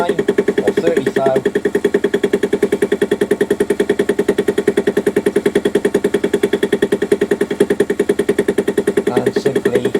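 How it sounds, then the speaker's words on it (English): A fly cutter mills a workpiece on a machine, a rapid, steady knocking beat of interrupted cuts that stays loud and close from start to finish, with short higher squeals near the beginning and end. "simply passing the workpiece back and forth in front of the fly cutter"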